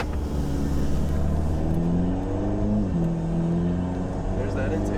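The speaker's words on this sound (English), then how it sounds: "it was the intake making that sound" Intake of a Volkswagen Golf R roars steadily as the car accelerates through the gears, a continuous engine drone with rising harmonics heard from inside the cabin.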